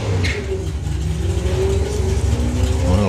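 Ford Cortina Mark 1 drag car at a hot rod drag racing event, engine revving hard and loud with a rough, sustained roar that rises toward the end.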